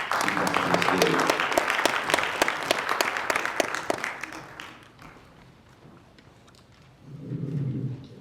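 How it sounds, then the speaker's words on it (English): Audience applauding the mayor at an annual Dr. Martin Luther King Jr. celebration, a dense burst of clapping that tapers and fades out, followed by a short murmur of crowd noise. "Give her a round of applause."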